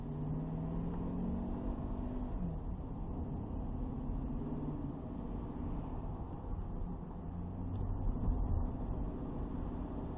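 Steady engine drone from inside a 2009 GMC Sierra 4WD pickup truck as it accelerates, rising gradually with a low hum throughout.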